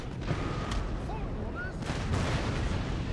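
Cannon fire in a Napoleon: Total War battle, with artillery behind the lines firing into the squad in front: a steady rumbling barrage of booms and crackling musketry mixed together, with faint voices under the din.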